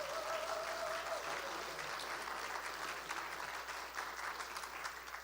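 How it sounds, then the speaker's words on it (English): Sustained applause from an audience honoring students at a school civics competition finals, dense steady clapping filling the room for several seconds, fairly loud and even throughout. "So one huge round of applause for your students today, for all of you."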